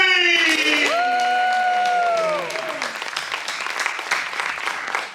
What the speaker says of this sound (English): let's make a lot of noise for Mr. Mark James.